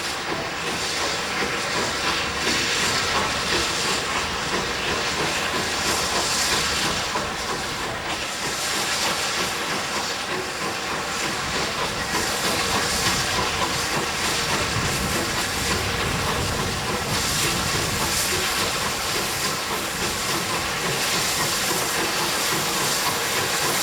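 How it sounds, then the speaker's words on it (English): A rebuilt West Country Pacific steam locomotive pulls cautiously away with a midweek train bound for Pickering, a loud, sustained roar of hissing steam with faint rail clatter throughout. "Rebuilt West Country Pacific Heartland eases cautiously away under newly installed signalling"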